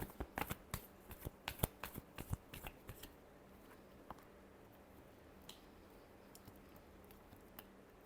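Tarot cards being shuffled, a quick burst of crisp riffling snaps in the first few seconds, then sparse faint taps, quiet and close.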